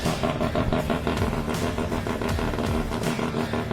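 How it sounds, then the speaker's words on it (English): A drift car idles at Meremere Drift Park, a loud, steady engine rumble with a rough pulsing beat and clattery texture, close and continuous. "it is Link's car idling away."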